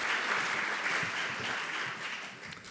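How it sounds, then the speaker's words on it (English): An audience at a literature festival talk applauds Simon Winchester, with dense, steady clapping from a sizable crowd in a hall that begins to thin slightly at the end. "please give a large round of applause, ladies and gentlemen, for Simon Winchester"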